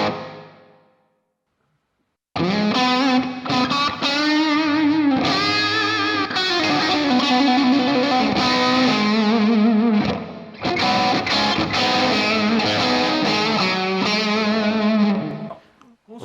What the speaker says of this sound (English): Another reverb, number 6, gonna be a spring reverb.